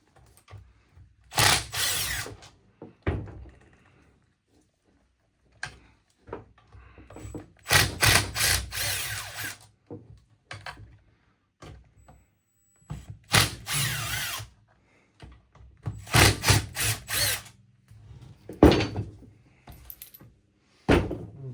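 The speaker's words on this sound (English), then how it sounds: "we'll take out these 4 screws. They look like T30s, so we'll remove those." A power drill backs four T30 screws out of a Milwaukee M28 cordless bandsaw during disassembly, in several short whirring bursts separated by quiet pauses and small clicks of handling.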